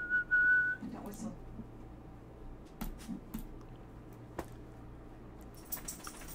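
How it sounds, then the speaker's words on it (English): A person whistles a brief steady tone near the start, then keyboard-like clicks and taps sound faintly in a quiet room. "Don't whistle."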